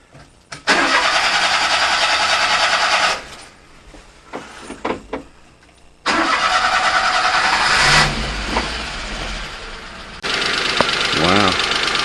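A cold mini truck engine, its choke stuck and not used, cranks in loud bursts, catches briefly and dies, then fires and keeps running roughly and steadily with a knocking note. A voice speaks briefly.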